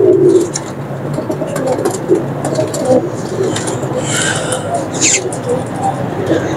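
Ferozpuri pigeons coo softly in low, throaty bursts while someone talks loudly nearby, with faint traffic in the background.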